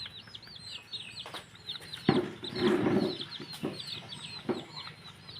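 Pet chickens cluck and chirp while feeding, with repeated soft clucks and small calls, some shuffling and pecking sounds nearby, and a louder rustle partway through.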